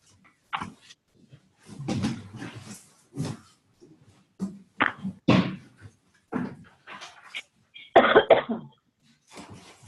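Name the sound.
person coughing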